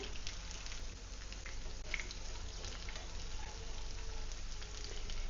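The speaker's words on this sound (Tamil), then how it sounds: "மீடியம் ஃப்ளேமில் வச்சு நம்ம இந்த மாதிரி வறுத்து எடுத்துக்கணும்" Fish frying in a pan on a medium flame: a faint, steady crackling sizzle, continuous and even throughout with no voices.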